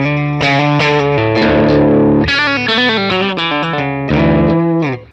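A distorted electric guitar played through a Quad Cortex amp modeler strums loud, bright chords with a chorus shimmer, several changes over a few seconds, then cuts off.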